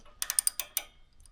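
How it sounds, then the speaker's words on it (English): A socket wrench ratchets a spark plug tight on a Toro mower, giving six quick, crisp metallic clicks close up in an uneven rhythm, with no talk. "socket wrench, set it in all the way, and you're going to torque it down"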